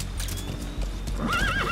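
A horse in Metal Gear Solid V, set in Afghanistan, gives a loud rising whinny over a steady, close clip-clop of galloping hooves that runs through the whole stretch.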